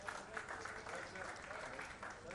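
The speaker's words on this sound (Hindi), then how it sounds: "लेडीज एंड जोरदार तालियां।" An audience claps with quiet, steady applause, and faint voices come through beneath it.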